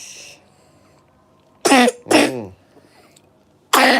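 A few harsh coughs and throat-clearing bursts, close and loud, separated by quiet gaps, with one more burst at the end.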